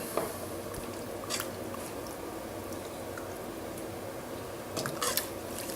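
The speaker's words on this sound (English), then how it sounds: "now it's a matter of putting in the filling" Steak and ale filling is spooned into buttered, pastry-lined pie cases, with soft wet squelches and a few light utensil taps on the tins at the start and end, close and fairly quiet.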